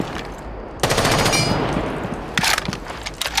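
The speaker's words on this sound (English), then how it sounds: "They're shooting." Gunfire in Rainbow Six Siege, with rapid automatic bursts that stop, start and then come in shorter volleys. The shots are loud and close, and nobody speaks.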